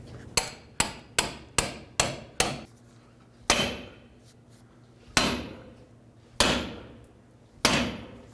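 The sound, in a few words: hammering pickle fork into ball joint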